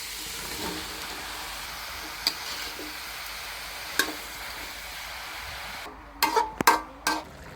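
Bottle gourd and prawn paste frying and being stirred in a pan, a steady soft sizzle with occasional ticks, then a few loud scraping stirs near the end.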